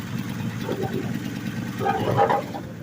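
A 1965 Plymouth Barracuda six-cylinder engine runs steadily after its carburetor is primed, a low continuous rumble with a slight rise partway through.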